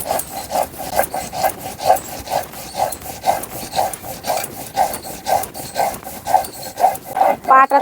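Mustard and poppy seeds ground by hand on a stone slab: a steady back-and-forth rasping scrape, about two strokes per second, loud and close with no talk.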